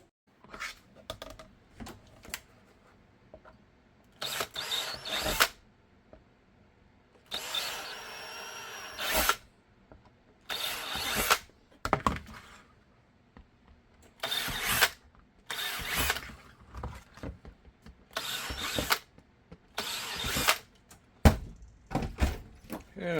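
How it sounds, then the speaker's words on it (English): Power drill boring holes in a holster trim jig, short whirring bursts repeated about eight times with quiet pauses and small handling knocks between them. "drill the holes we need"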